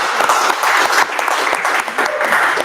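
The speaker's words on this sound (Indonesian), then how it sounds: "Kita berikan aplaus sekali lagi buat Sally." An audience at a tax talkshow event applauds loudly and steadily for a young woman named Sally, dense clapping close by for nearly three seconds.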